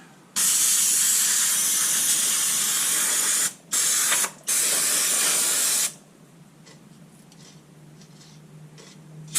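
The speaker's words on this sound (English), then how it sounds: "More spray." Loud, close hissing bursts from an aerosol spray can: one long spray, two short breaks, then the spraying stops, leaving quiet background noise.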